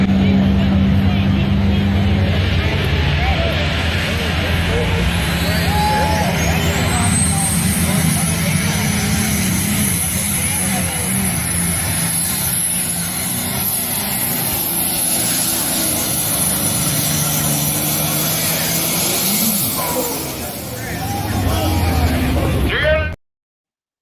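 A pulling tractor roaring down the track at a Motorsports Mayhem tractor pull in Richland Center, a loud sustained engine howl with a rising whine, holding at full power before cutting off abruptly at the end.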